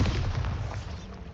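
A Bombarda spell explosion in the video game Hogwarts Legacy, a single loud, booming blast that fades over about a second.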